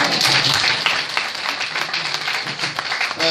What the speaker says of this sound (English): you can applaud again